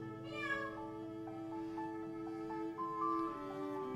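Sophia, a house cat, lets out a long, plaintive meow that bends in pitch and keeps going for several seconds, close by and fairly quiet with no talking over it.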